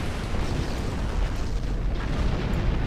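Torpedo explosions batter a starship in the Star Trek Online game as a dense, continuous rumbling roar. The sound stays loud and even throughout, with no speech.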